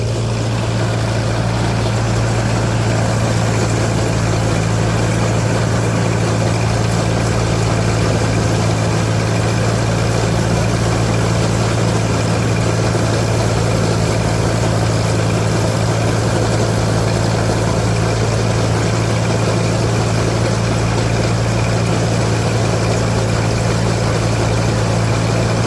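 A Case 555 tractor engine runs steadily while cutting hay, a loud continuous drone with a strong low hum that holds level throughout, with no speech over it.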